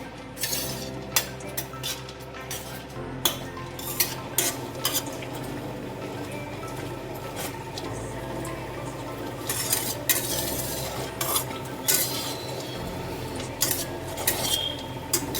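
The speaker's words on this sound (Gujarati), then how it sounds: "હવે એને ધીમા ગેસે આપણે કરકરી થાય ત્યાં સુધી તેને શેકી લેવાની છે." Mango seeds roasting in a pan over a low gas flame, stirred with a metal utensil that scrapes and clinks against the pan in irregular strokes, with a soft sizzle underneath; close and steady, no talking.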